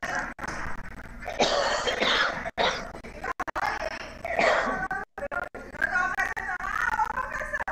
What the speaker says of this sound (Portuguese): Nem que tosse é essa, hein?